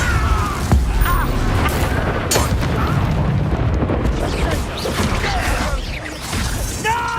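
Fiery Confringo blasting spells burst in Hogwarts Legacy combat, loud crackling explosions amid dense battle noise and shattering debris, with voices calling out spells over the continuous, busy din.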